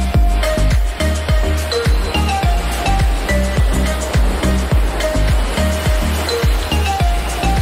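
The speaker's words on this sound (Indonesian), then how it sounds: "Hembusan angin pantai, deburan ombak" Beach waves break steadily on the shore of Temajo Island, Indonesia, a loud, continuous wash of surf with repeated low thumps and rhythmic surges close by, no voices.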